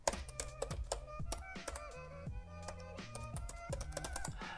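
Rapid clicking keystrokes on a computer keyboard as Linux terminal commands are typed on a Kali Linux system, irregular taps close up over steady tonal background music.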